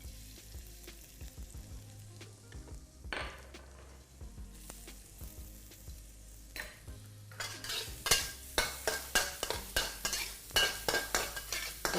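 Ginger and garlic fry in hot oil in a wok, starting as a quiet sizzle with a few scrapes, then a rhythmic series of loud spatula stirs and metal clacks against the pan, close and without talk.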